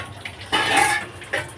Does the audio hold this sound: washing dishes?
yes